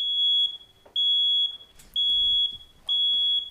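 Loud, piercing 95-decibel electronic alarm beeps from a child's ankle monitor, in long repeating tones, four sustained pulses separated by brief gaps, close and insistent.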